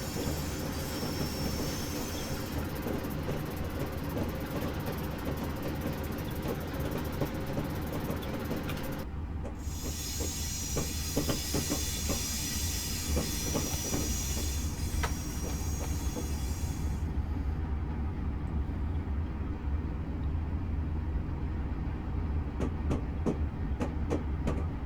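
An NJT U34CH diesel locomotive pulls a train on the Morristown Line, producing a steady low rumble and hiss with faint rhythmic clicks from the rails and brief shifts in the noise. The sound is continuous and moderately distant.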